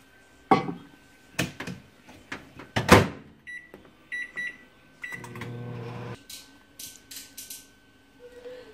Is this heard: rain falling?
no